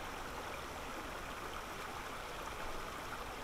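Steady broadband rush of a creek's flowing water, continuous and even throughout, with no voices and a faint low rumble beneath it.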